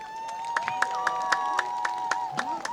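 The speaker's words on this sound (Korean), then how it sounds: "물 마실 때 박수 줘야 된다 그랬는데" Rhythmic audience clapping at a live trot performance during the Yeongchwisan azalea festival in Yeosu, steady claps running beneath sustained melodic singing tones.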